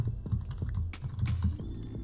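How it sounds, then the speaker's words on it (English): Computer keyboard typing while a search topic is entered, a close, steady run of quick key clicks over about two seconds with no talking. "So I can type in a topic into the search."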